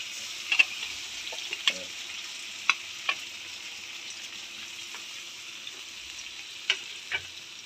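Spice paste fries with a steady high sizzle in a pan, and a few scattered spoon scrapes and taps mark the stirring. It sounds close and moderately quiet, and no one talks.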